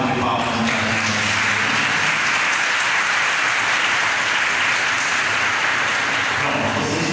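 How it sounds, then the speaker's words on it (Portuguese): Children clapping together inside a church, a loud, dense and steady burst of applause that carries on unbroken from start to finish. "Uma salva de palmas para nós."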